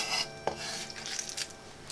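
A knife cuts thin green onions (silpa) into bite-size pieces on a cutting board for a lettuce geotjeori salad: close, fairly quiet scraping strokes with a couple of sharper knocks, no voices.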